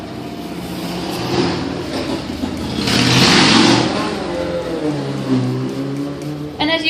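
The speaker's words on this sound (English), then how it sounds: "We are in an area where we have a lot of motorcycles come through." A motorcycle engine revs and roars past in New Hampshire, swelling louder then easing off as the motorcycle moves by, with a steady mechanical drone throughout.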